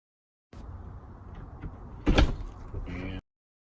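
A Tesla's rear door opens with a brief mechanical clunk and rush partway through, set against a steady low cabin hum, followed by a softer latch sound near the end.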